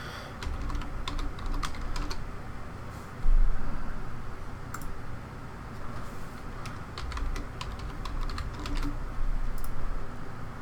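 Password typed on a computer keyboard, with close, uneven clusters of key clicks over a steady background hiss and one louder thump partway through.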